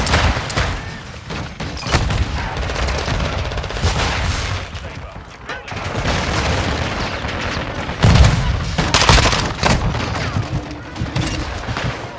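Shotgun blasts in a multiplayer video game, loud, repeated booming shots across a busy firefight, with heavier hits bunched near the end.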